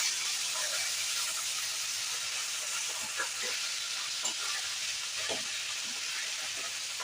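Fish frying in hot oil in a home kitchen for a tomato fish curry, giving a steady, even sizzle and hiss throughout with occasional faint pops and spatters, no voices.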